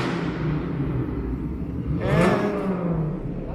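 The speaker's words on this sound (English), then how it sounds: "And an unnecessarily loud engine." A loud souped-up car engine on a downtown Toronto street revving up and fading past, a rising and falling growl over steady city rumble, no talk.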